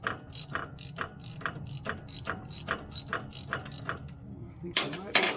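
Rapid, steady clicking of a hand ratchet working loose a bolt on a 2014 Ram during an electric power steering repair, a regular series of close mechanical clicks ending with a quicker burst.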